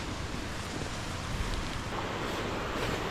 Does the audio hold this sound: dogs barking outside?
no